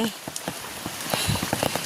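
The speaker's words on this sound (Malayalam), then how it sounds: "നല്ല മഴയാണ്." Heavy rain falls steadily in a monsoon setting, dense close patter with scattered louder drops hitting a nearby surface.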